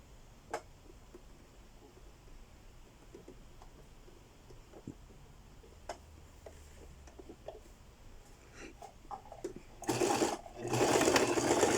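Scattered quiet clicks and fabric handling lead into a loud, close burst of sewing machine stitching near the end as a back and front sleeve facing of an empire-waist blouse are joined.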